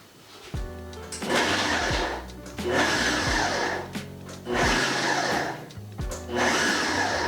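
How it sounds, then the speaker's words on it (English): A food processor pulses chopped pico de gallo ingredients in four short bursts, each a whirring motor grind of about a second, separated by brief pauses. "So I'm going to do the pulse so I can take it slow and pulse it"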